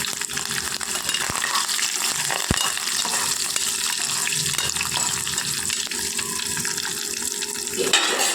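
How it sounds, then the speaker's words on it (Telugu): Cumin, dried red chillies, garlic cloves and curry leaves fry in hot oil for a tempering, giving a steady, loud hiss and sizzle throughout, with a couple of faint clicks from the pan. "పోపు వేగుతుందండి. కరివేపాకు యాడ్ చేసుకుందాము."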